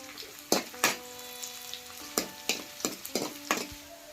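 Green chillies and garlic fry in a pan, a low sizzle broken by a series of sharp clinks and scrapes from stirring, close and fairly loud.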